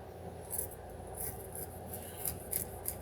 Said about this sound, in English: Then what you're going to do is just kind of cut it smoothly